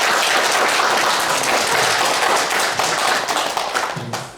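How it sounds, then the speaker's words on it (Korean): A church congregation claps together during a Sunday service, dense and loud from the start, then thins out and fades toward the end. "축하하면서 다시 한번 박수하도록 하겠습니다"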